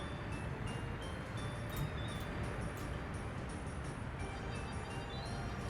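A steel freight train runs in the Soviet-era building game Workers & Resources: Soviet Republic, giving a steady, continuous rail rumble with no breaks.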